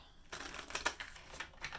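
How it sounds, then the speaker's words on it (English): Tarot cards are shuffled by hand in a quiet room, making soft, quick riffling and flicking bursts that come in uneven clusters. "I think I'll have to shuffle this way."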